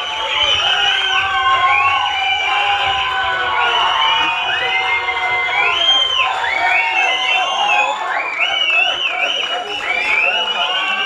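A crowd cheers, whoops and shouts at a film teaser launch event as a producer is welcomed onto the stage, a dense and steady roar of excited voices that lasts throughout.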